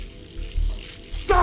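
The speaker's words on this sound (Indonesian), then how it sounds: "memasukkan peluru sambil memutar silindernya" A revolver cylinder is spun after bullets are loaded, producing a quick mechanical ratcheting click under faint background noise, with a sharper metallic snap near the end of the short burst.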